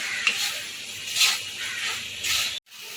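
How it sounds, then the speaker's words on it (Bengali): Chicken pieces sautéed with salt and ground black pepper in a pot for chicken tehari, giving a soft steady sizzle and hiss with brief louder bursts as the meat is stirred, cutting off abruptly near the end. "মাংসটাকে একটু কষিয়ে নিয়েছি"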